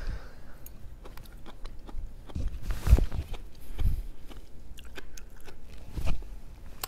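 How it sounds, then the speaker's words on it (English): Crunchy yellow squash in a creamy pesto cheese sauce being chewed close to the microphone, with irregular crisp bites and crunches repeating over several seconds. "Super crunchy. I don't know if you can hear that crunch out of this."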